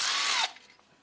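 A power tool whirs for about half a second while backing studs out of a Ford Escape alternator, then stops abruptly with faint mechanical clicks trailing off.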